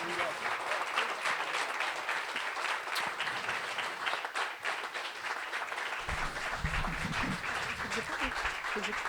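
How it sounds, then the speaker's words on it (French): Steady, sustained applause fills the room as an audience claps at an award ceremony, with a voice speaking over the clapping in the later part. "vous allez continuer de donner de l'applaudissement pour les encourager"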